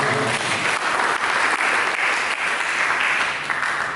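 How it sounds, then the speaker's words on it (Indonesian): A church congregation breaks into applause, a full, even wash of clapping from many hands that holds steady for several seconds. "Mari kita berikan tepuk tangan."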